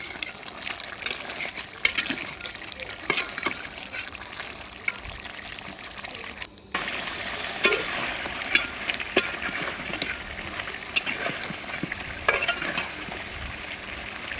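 Layer chicken with potatoes cooking in a pan: a steady close sizzle and bubbling with light stirring scrapes, briefly dropping out midway before resuming a little louder, no speech.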